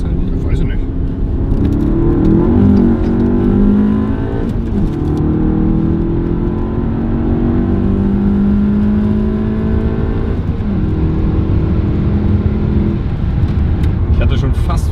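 Inside a tuned VW Golf 7 GT(D)R, the four-cylinder engine pulls hard with a loud rising drone that eases and climbs again through gear changes, while people talk over it in the cabin.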